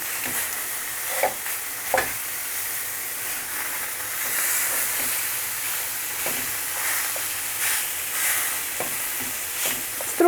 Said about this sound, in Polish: Oczywiście smażymy na suchej patelni.